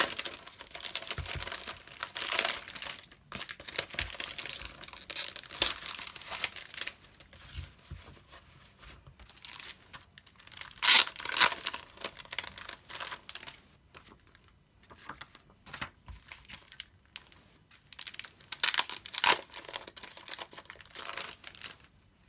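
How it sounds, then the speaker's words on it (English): Plastic packaging crinkles and rustles as it is peeled off a Traveler's Notebook from the Journal Shop, with close, irregular bursts of crackling and short quiet gaps between them, no voices. "I'll quickly turn the video off whilst I get the plastic bits of the packaging off, so you don't have to listen to all of that rustling."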